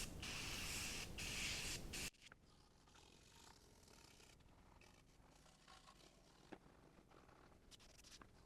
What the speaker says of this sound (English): use this spray glass cleaner and a soft brass bristle brush to loosen the dirt